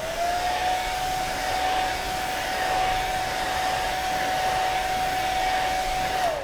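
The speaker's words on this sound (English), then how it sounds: "I'll do this side of my beard here with this blow dryer, low" A blow dryer on its low setting drying a beard: a steady, close whirring drone that holds even for several seconds before dropping off as it is switched off, with no talking.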